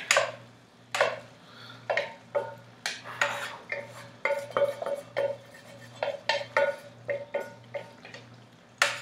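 Meat being added to a lasagna mixture in a pot, heard as a steady run of clinking, scraping and tapping of a utensil against cookware over a low background hum, without speech.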